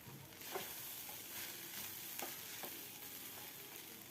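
Poha upma being stirred with salt in a pan over a low gas flame, a soft steady sizzle with faint scraping strokes of the spoon, quiet and close, with no talking.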